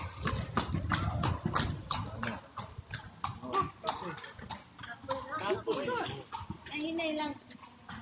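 Hooves clip-clop in a steady, close rhythm as a horse walks past on the rocky paths of Petra in Jordan, while tourists chat and call out greetings over the hoofbeats.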